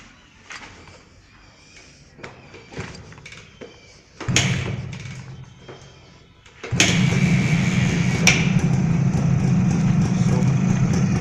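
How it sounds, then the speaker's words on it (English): A 1984 Suzuki AX 100 motorcycle, unstarted for over a year, is kicked over several times with sharp clatters and thuds, then catches with a brief burst before settling into a loud, steady two-stroke idle. "we started, no problems at all, even after doing a kickstart after more than a year's time."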